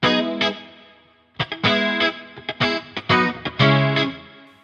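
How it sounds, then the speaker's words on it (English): An electric guitar played through a Tonex preset with an 80s-style chorus effect. It gives a shimmering, slightly distorted tone: a long ringing chord, then a run of short choppy strums and stabs, loud and alone. "In the middle one, there's a chorus to play stuff that is more like 80s."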